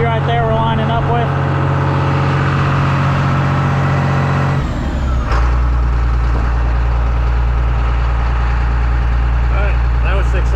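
A salvage tractor's engine runs loud and steady nearby as the tractor turns around, its tone dropping to a deeper, lower drone partway through, with a person talking over it.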